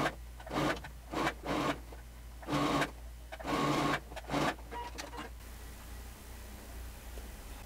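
A home sewing machine stitches the seams of a cropped top, running in several short, fairly loud bursts separated by pauses, then falls quiet near the end.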